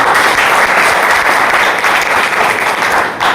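A crowd at a business talk event in Jaunpur gives loud, sustained applause, a thick, steady wash of clapping that holds without a break.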